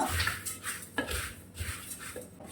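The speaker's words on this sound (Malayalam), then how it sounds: "നന്നായിട്ടൊന്ന് ഇളക്കി കൊടുക്കുന്നുണ്ട് ലോ ഫ്ലെയിമിലാണ് ഇട്ടിരിക്കുന്നത്" A spoon stirs coriander roasting in a pan over a low flame, giving repeated close scraping and clinking of metal against the pan in an uneven rhythm.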